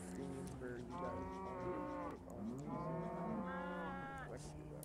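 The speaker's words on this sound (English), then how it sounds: "all I can hear is cows." Cattle moo beside a ranch in a PS3 video game, several drawn-out moos overlapping one another, fairly quiet and close.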